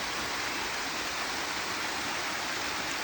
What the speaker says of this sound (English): here is the artificial waterfall on the big